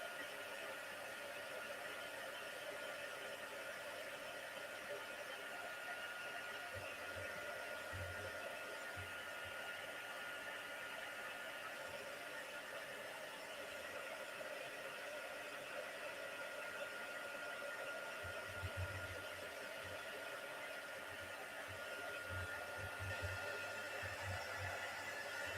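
A heat tool blows steadily as it dries paint, a continuous breathy whir that holds for the whole stretch, with a few low thumps underneath.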